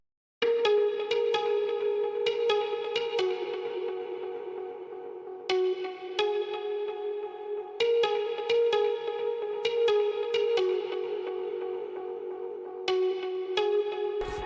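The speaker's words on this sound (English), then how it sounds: "D50 mute guitar from Nexus, and I drew out a pattern and it sounds like this." A Roland D50-style muted guitar patch from the Nexus plugin plays a bright plucked pattern of short repeated notes over a sustained tone, with bursts of quick staccato picks and a wet, echoing tail.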